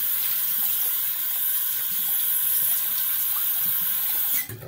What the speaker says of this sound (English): And then I'll just rinse with cold water.